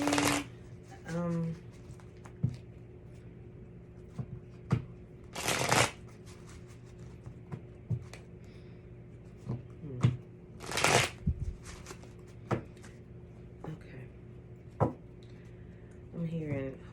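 A deck of love oracle cards being shuffled close by, with crisp riffling bursts repeating at intervals, separated by lighter taps and card handling, and a steady low hum underneath.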